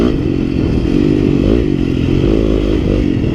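Yamaha YZ250FX four-stroke dirt bike ridden through desert, its engine droning steadily and loudly throughout with slight revving swells, plus faint clatter and scrape from the terrain, no talking.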